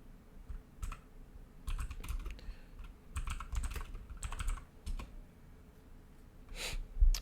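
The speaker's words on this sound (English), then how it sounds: "or am I typing this wrong?" Bursts of typing on a computer keyboard, quick clusters of clicks separated by short pauses, close and fairly quiet with no talk.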